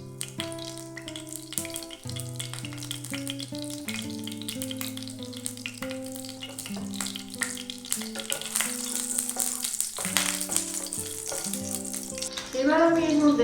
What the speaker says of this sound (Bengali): তেলটা গরম হয়ে গেছে, আমি প্রথমে এতে গোটা জিরে ফোড়ন দিচ্ছি।